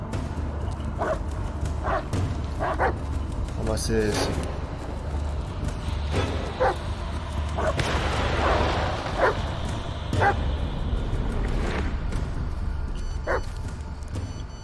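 Dog barking in the Blair Witch video game, a series of short yips and barks spread through the clip over a steady dark ambient bed, with someone briefly speaking.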